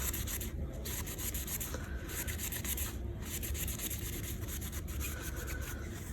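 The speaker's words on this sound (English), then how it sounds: "Just make sure I've rubbed all the alcohol away." Steady close rubbing on a resin turtle trinket tray to wipe off alcohol, a soft continuous scrubbing rasp with rhythmic strokes and no talking.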